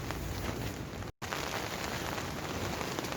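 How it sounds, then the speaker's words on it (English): Heavy rain drums steadily on a tent during a winter camping night with gale-force wind, a dense, constant patter that briefly cuts out for a split second before resuming. "it's raining and it is blowing a gale"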